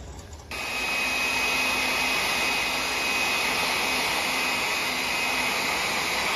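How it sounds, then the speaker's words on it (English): A hair dryer drying milk paint on a wooden three-legged stool switches on and blows with a loud, steady, broadband whoosh that holds constant without pause. "we can speed up the process with the hair dryer"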